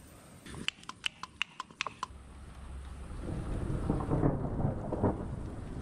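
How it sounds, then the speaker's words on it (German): A thunderstorm with rain arrives: a series of sharp clicks or clatters gives way to a swelling roar of rain and rolling thunder that grows louder toward the end. "Jetzt kommt noch der Regen und das Gewitter."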